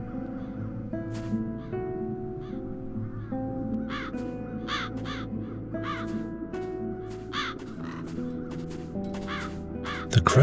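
Crows in a fantasy adventure game caw repeatedly over a bed of ambient music, harsh calls scattered irregularly and growing busier toward the end, fairly close and clear.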